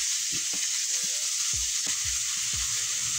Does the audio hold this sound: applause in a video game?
no